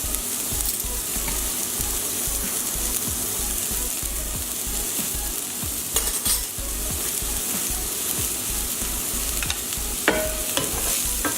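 Shallots and crushed peppercorn sizzle in a pan as the base of a steak sauce, a steady close frying hiss with occasional metallic scrapes and clinks of a utensil.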